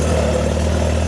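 A Farmall C tractor engine idles steadily, a low, even rumble with a constant throb that stays loud and close throughout, with no voices.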